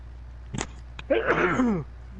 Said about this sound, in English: I just got a sneeze